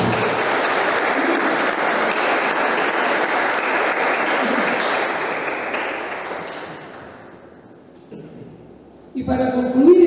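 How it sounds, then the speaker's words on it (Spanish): A church congregation applauds loudly and steadily for several seconds before the clapping fades out, followed by a voice starting to speak. "Fuerte el aplauso."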